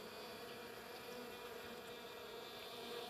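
A honeybee swarm buzzes steadily and close at its hive, a dense, continuous drone that stays at even loudness throughout with no voices.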